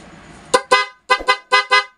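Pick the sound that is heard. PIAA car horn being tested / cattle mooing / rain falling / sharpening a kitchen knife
PIAA car horn being tested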